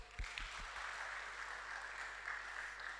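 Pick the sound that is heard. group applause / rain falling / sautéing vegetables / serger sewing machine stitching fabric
group applause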